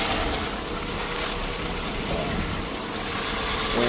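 A 7th-generation Honda Accord with the KA24 four-cylinder engine idles steadily, a constant close engine hum with no talking.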